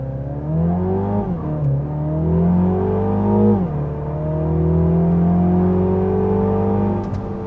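A 2023 MINI John Cooper Works Cabrio engine revs and climbs through gears while driving, a loud, close, steady drone rising and dipping in pitch, with no talking.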